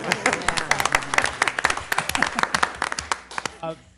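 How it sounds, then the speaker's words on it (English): Applause at a school board meeting: a smaller group clapping nearby with distinct, uneven individual claps for about three and a half seconds before it quickly dies away, with voices audible underneath. "That's a round of applause"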